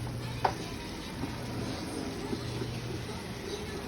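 Pepper steak being stirred in a hot pan, a low steady sizzle with soft scraping and a few light clinks of the utensil against the pan, up close with a faint hum beneath.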